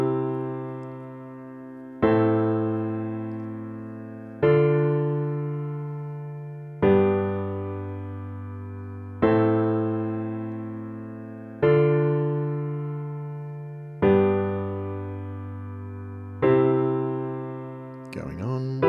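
Sustained keyboard chords played one after another, about eight in a slow even rhythm, each ringing and fading before the next is struck.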